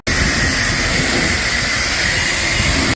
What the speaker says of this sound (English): I'm washing my wife's car.